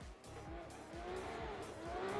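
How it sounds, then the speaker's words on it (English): A Ferrari drifting in a virtual drift championship game, its engine revving and tires squealing in a steady, sliding roar, moderately close and fairly quiet. "The Ferrari coming out there, huge flick going into that first outer zone and just being stabilized"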